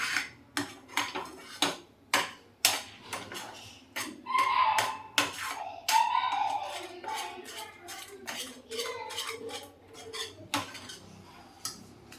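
A spoon stirring almond halwa with sugar in a metal pan, giving a steady run of sharp, close scraping clinks at an uneven rhythm over about twelve seconds, with a faint bubbling texture underneath.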